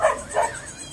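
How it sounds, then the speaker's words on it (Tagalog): A dog on a farm gives two quick, close barks in a row, clear and fairly loud, with no talk over them. "aso"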